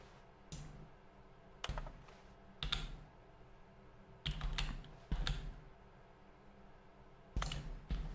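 Keyboard clicks in The Stanley Parable ring out as sharp, irregular keystroke taps in small clusters, close and crisp over a quiet hum.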